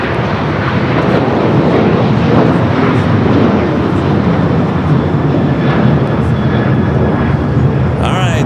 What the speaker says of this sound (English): we're definitely getting China Eastern heading to Shanghai, making that left-hand turn onto taxiway Bravo